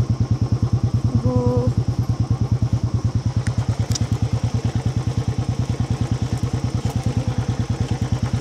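Trail motorcycle on an extreme off-road mountain route in Nepal, its engine thumping in a fast, steady, close putter with clattering and knocks from the rough ground, and a brief tonal sound early on.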